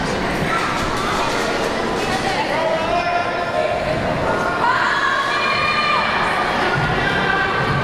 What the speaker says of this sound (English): What's left of the crowd here is chanting for Nick Fury to clear the morons.